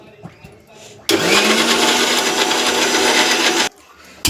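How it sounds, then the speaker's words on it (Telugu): A mixer grinder grinds soaked pulse batter with water, starting abruptly as a loud, steady whirring drone that runs about two and a half seconds before cutting off, with quieter room sounds before and after. "మళ్ళీ మిక్సీ కట్టుకోవాలి."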